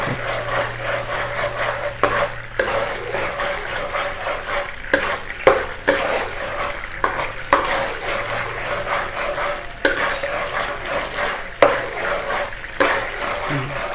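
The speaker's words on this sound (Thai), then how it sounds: "จากนั้นเราก็จะคนไปให้น้ำตาลทรายมันละลายนะคะ" Sauce being stirred in a pan on the stove to dissolve sugar, giving a steady scraping and swishing with light sizzling throughout, punctuated by brief louder knocks of the utensil against the pan.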